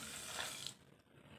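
Water poured into a pan of sugar to make syrup, a short bright splashing gush that cuts off after about a second, followed by faint trickling.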